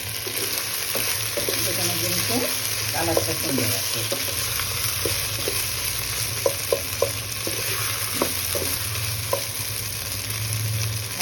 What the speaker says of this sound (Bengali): 2টা টমেটো দিয়ে সুন্দর করে নাড়বো